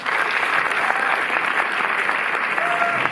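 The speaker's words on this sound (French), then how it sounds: "Les applaudissements du public." A cinema audience at a special screening of La reine Margot claps, dense, even applause filling the room at a steady level, with a brief tonal squeak near the end.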